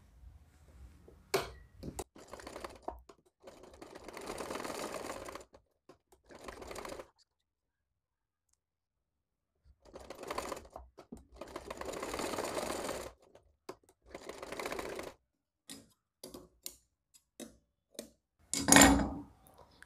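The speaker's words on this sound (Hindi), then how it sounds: "इसको हम बाहर निकालेंगे और यहाँ से अपने शोल्डर को सिल देंगे" A sewing machine stitches the shoulder seam of a girl's yellow dress in several separate runs, each a rapid, steady mechanical whir, with quiet gaps and small handling clicks between them and a sharp knock near the end.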